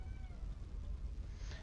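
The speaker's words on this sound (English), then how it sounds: "If anyone just heard that, that's my cat." A house cat meows quietly in the background, a short, wavering cry over a low indoor rumble, heard near the end of the brief moment.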